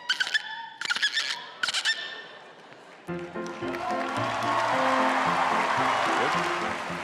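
A person imitates a dolphin at a farm-animal talent show, with three bursts of high-pitched squeaking clicks, followed by crowd applause and cheering that swells and continues to the end.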